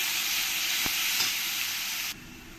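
Onion paste fries with cumin in hot oil for a tilapia and mankochu curry. A loud, dense, close hiss carries a single utensil tap, then drops suddenly to a quieter sizzle near the end.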